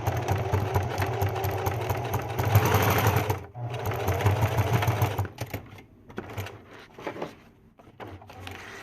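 A sewing machine stitching in fast runs, a loud close mechanical whir with rapid needle clatter, pausing briefly and then slowing into short stop-start bursts near the end.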